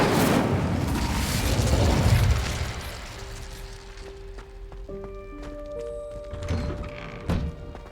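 The Incendio fire spell is cast in the Hogwarts Legacy video game: a loud roaring burst of flame rumbles for about two seconds, then fades into softer crackles and bright, ringing magical tones.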